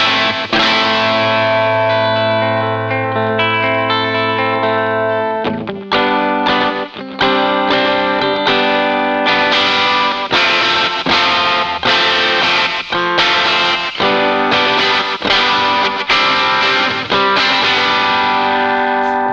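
Electric guitar played through a Boss Blues Driver overdrive pedal, loud and continuous, with sustained chords opening into a busier run of strummed and picked notes, distorted and close, with no talk.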